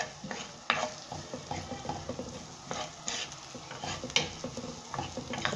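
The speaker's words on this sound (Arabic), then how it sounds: "خليها تتقلى هكذا" Bourek filling with onion, olive oil, salt and black pepper frying in a pan, a soft constant sizzle broken by utensil stirs and occasional clinks against the pan, close and moderately quiet, no speech.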